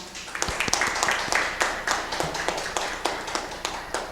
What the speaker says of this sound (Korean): 모두 큰 박수로 환영 부탁드리겠습니다.